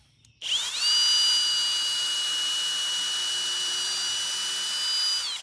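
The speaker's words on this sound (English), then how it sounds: "So you pretty much need to drill a bit of a pilot hole." A power drill whines steadily at high speed for several seconds while drilling a pilot hole through pine boards, loud and close, starting abruptly and cutting off at the end.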